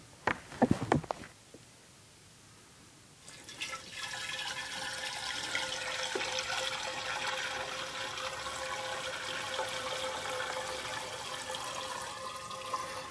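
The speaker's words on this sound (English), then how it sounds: "we'll just pour that right in" A few knocks and clatter, then a steady rushing pour of Sterashine sanitizer and water into an ice cream machine that continues without a break for about ten seconds.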